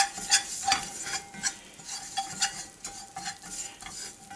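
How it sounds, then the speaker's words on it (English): A flour and spice blend being stirred into fat in a hot cast iron skillet like a roux, with rhythmic scraping strokes and a soft sizzle running underneath. "And now I'm going to add my flour spice blend."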